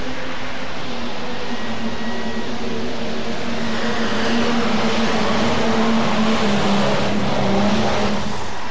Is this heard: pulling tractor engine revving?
yes